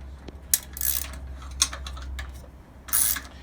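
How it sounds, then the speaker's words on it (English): An open wrench works on a bolt on a VR400/VR500 mower with faint metallic clicks and scrapes in a few short bursts over a low steady hum, close and fairly quiet. "now I have to go ahead and loosen back here so that it allows me enough slack to remove this flywheel out"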